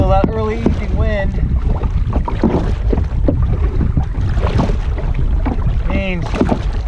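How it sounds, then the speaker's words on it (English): Wind gusting over Waldo Lake in Oregon during an early evening canoe trip, a steady loud rushing and buffeting roar close to the microphone, with someone talking over it throughout. "the wind has picked up"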